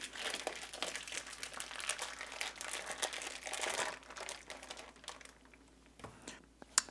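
A beef picanha is pulled out of a crinkly cryovac plastic bag, giving close, soft, continuous crinkling and rustling that tapers off into a few faint handling sounds.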